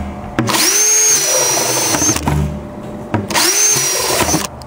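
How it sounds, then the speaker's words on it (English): A spade bit drills holes through a plastic rain barrel lid in two loud, close bursts of whining power-drill noise, each lasting about two seconds, separated by a short pause. "Using a spade bit of any size, drill a number of holes in the lid."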